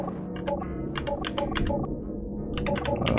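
Computer keyboard keys, the arrow keys, are pressed in quick clustered bursts, a run of sharp clicks, then a short pause, then another rapid flurry, close up over a low steady hum, no voices.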